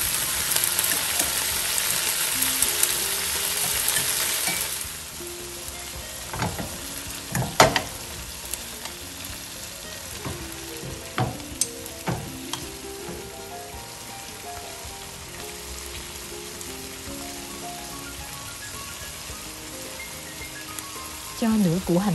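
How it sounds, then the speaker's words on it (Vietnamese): Sardines fry in a pan with garlic and shallots, a loud, steady sizzle at first that settles into a softer crackle, broken by sharp clinks and scrapes of stirring. "cho cá mòi vào và chiên cho hai mặt cá bám với lại tỏi và hành"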